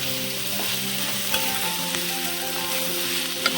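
Boiled cluster bean pieces fry in oil with a continuous, even sizzle close by, and a few faint clicks of stirring come through over the hiss.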